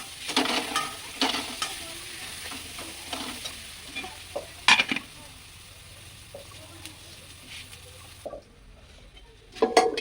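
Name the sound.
stirring and frying spice masala with sugar in pan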